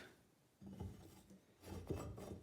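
Chisel paring waste wood from hand-cut dovetail joints in a furniture workshop, producing faint close scraping and rasping strokes, two short bursts after a quiet start.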